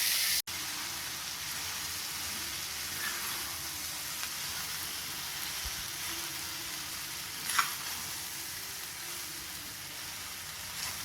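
Cooked basmati rice is stirred into capsicum in a pan: a steady, quiet sizzle with occasional soft scrapes of a spoon.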